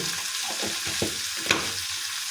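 Chikni greens frying with salt, coriander and turmeric powder over low flame, a dense close sizzle with several scraping strokes of a stirring spoon and one sharp metallic clink.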